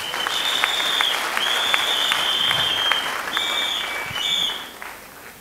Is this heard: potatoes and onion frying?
no